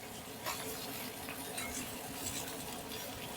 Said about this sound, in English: I'll turn it up a little bit more, and they'll have these sausages in here.